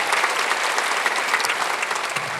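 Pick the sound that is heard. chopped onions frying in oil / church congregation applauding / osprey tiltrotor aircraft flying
church congregation applauding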